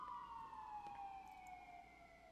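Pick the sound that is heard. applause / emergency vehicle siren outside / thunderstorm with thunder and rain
emergency vehicle siren outside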